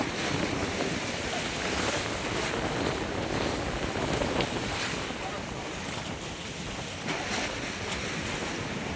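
Big ocean waves at sea around a fishing boat on a multi-day trip, a constant loud wash of surf and wind roaring across the microphone with no break.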